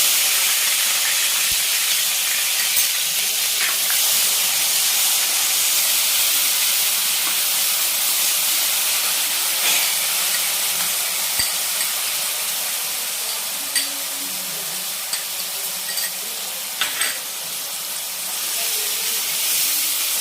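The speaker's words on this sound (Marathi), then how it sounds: "एक कांदा लसूण आणि आल्याची पेस्ट आता याच्यानंतर टाकते" Onion, garlic and ginger paste frying in a pan for methi masala, a steady bright sizzle and hiss with faint clinks, continuous and close.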